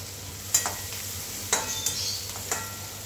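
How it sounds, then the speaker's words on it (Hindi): Potato curry being stirred in a pan: a spoon scrapes and knocks against the pan a few times, with a quiet sizzle underneath and no voices. "अभी वापस इसे हम चला लेते हैं।"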